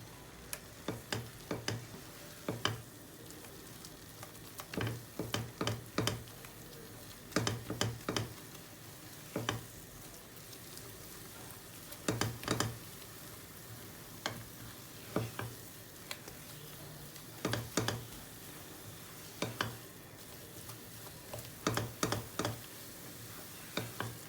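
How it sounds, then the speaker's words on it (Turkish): Eclair choux dough being stirred and toasted in a pan like halva, giving a steady soft sizzle broken by repeated sharp scraping and tapping strokes of the spoon at an irregular rhythm, close and alone without talk. "Hamurumuzu tıpkı e, helva kavurur gibi kavuracağız."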